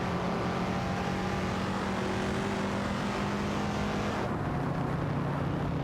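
A Ferrari 250 LM race car engine in a racing video game drones at a steady high pitch with a constant roar, shifting tone briefly near the end as it keeps racing.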